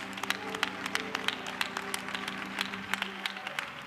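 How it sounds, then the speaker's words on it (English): A church congregation clapping their hands in welcome, with fairly regular sharp claps over a sustained low tonal hum of music, heard at a modest level, without speech. "Clap your hands for our leader as he comes."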